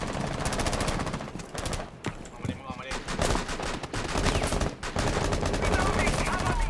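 Rapid gunfire in the Rainbow Six Siege video game, dense automatic bursts filling nearly the whole stretch with a short lull midway, loud and close, with faint speech mixed in.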